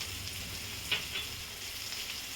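Drumsticks with ginger garlic paste, coriander powder, salt and turmeric sauté in a pan over low gas, giving a soft steady sizzle with a faint stirring scrape.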